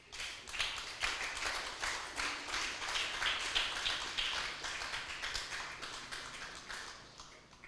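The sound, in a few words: congregation applauding the Lord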